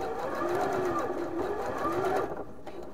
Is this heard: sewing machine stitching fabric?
yes